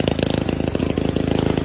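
A longtail boat engine chugs steadily with a fast, regular throbbing pulse, loud and close with a rough mechanical drone.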